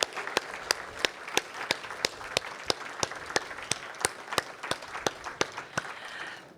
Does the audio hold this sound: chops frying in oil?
no